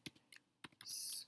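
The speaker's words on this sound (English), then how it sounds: "So you'll notice as I'm typing" Keys on a computer keyboard click in a short uneven burst of taps, faint and close, with a brief hiss after the last few strokes.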